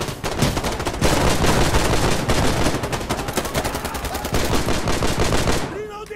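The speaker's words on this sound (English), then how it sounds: "Once you get the recoil down for this gun, it's actually pretty beastly" Sustained automatic gunfire in the video game Insurgency: Sandstorm, a loud rapid stream of close shots lasting several seconds before stopping abruptly, with a faint voice near the end.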